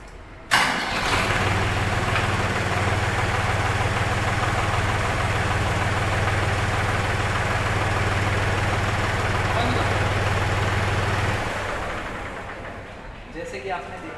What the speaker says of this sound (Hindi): आप एक बार ट्रैक्टर पे जाके स्टार्ट करके लिफ्ट उठाएंगे